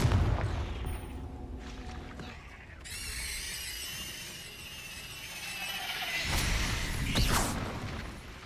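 The Confringo explosive spell goes off in Hogwarts Legacy as a dense, roaring blast with crackling, ringing magical layers, followed by further booming bursts and a swelling rumble, loud and continuous.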